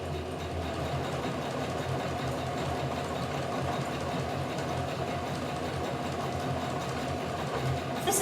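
A sewing machine stitches straight seams on a small fabric eye pillow with a continuous, even mechanical whirr and rattle, close and steady throughout with no talking.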